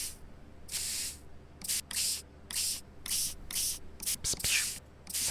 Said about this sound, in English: Spray, spray, spray.